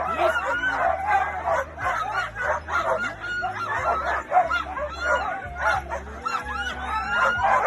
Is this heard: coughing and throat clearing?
no